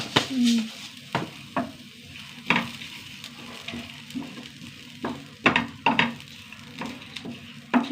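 Dried red chillies, curry leaves and fenugreek seeds fry in a pan with a constant close sizzle. A spatula scrapes and clinks against the metal in repeated irregular strokes.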